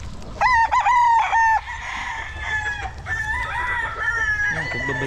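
A white hat gamefowl rooster crows nearby in a backyard farm in Ibaan, Batangas, one long loud crow followed by fainter crowing and clucking from other birds.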